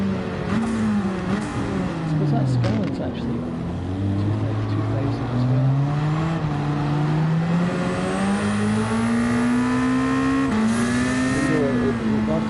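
Loud, continuous engine note from a Ford Sierra Cosworth in Gran Turismo 7, the revs dropping and climbing repeatedly in uneven surges as the throttle is worked, a voice faintly under it at times.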